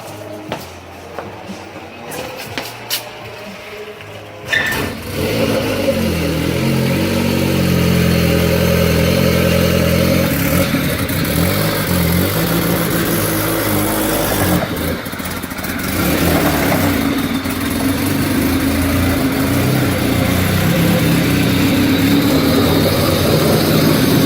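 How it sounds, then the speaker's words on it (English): A car engine catches after a push start down a driveway and then keeps running, a loud steady drone with some revving after a few seconds of quiet. "we're just going to push start it real quick just to see if it's running good."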